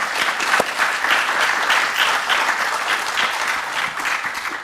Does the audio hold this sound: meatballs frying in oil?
no